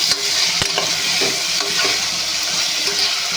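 Onions frying in oil, a loud continuous sizzle close up, broken by a few sharp scrapes and knocks of a stirring spoon against the pan.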